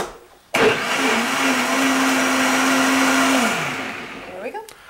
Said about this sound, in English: do we want to pulse blend this or do we want to puree it?